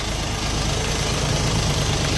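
A small three-cylinder diesel engine of an Orion 244 four-wheel-drive mini tractor idles nearby with a steady low chugging rumble, unchanging throughout, no talking.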